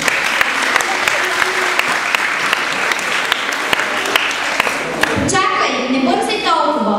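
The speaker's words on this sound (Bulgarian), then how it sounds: "Моля за вашите аплодисменти." Audience applause at a school end-of-year celebration: a full, steady round of clapping that gives way near the end to music and voices.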